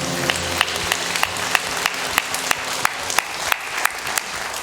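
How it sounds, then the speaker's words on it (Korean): A church congregation claps during a Sunday worship service, a steady wash of applause with sharper individual claps standing out near the mic at a regular pulse, rhythmic like clapping in time, with no talking. "우리 영광의 박수 올리며 나아가겠습니다"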